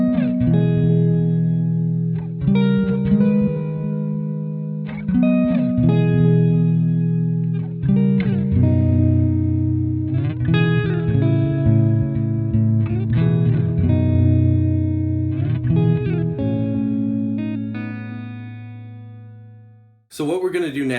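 Electric guitar played through a Yamaha THR10C II amp, chords and notes trailing into tape-style echoes and a wide hall reverb, ringing out alone before an abrupt cut.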